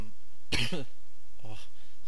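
A man coughs during Minecraft gameplay commentary, a sharp close burst followed by a shorter second cough about a second later, with little else around it.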